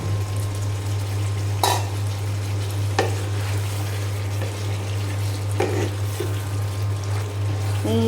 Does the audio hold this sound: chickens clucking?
no